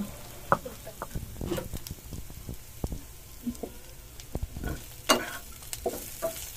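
Onions, ginger and garlic fry with lemon leaves in a pan for a fish dish, a low sizzle broken by irregular clacks and scrapes of a spoon stirring, close and fairly quiet.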